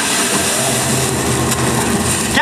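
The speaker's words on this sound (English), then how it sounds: "That's the sound of the gigantic rollers directly beneath me." Gigantic rollers at the Heineken brewery in Amsterdam splitting malted barley, heard as a steady, dense mechanical roar with grinding texture that holds level throughout, loud and continuous with no talk over it.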